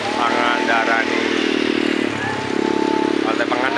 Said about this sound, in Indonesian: Banyak anak kecil yang sedang menggunakan motor-motoran